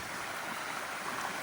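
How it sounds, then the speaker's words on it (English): A small creek flows near an alpine walking track, producing a soft, continuous watery rush with faint gurgling, low in level and steady through the brief moment. "It's a nice little creek."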